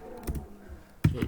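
A few quick, quiet keystrokes tap on a computer keyboard, two soft clusters of clicks close by with no talk.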